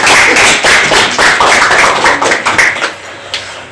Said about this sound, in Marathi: आपण त्यांचे टाळ्या वाजवून स्वागत करूया.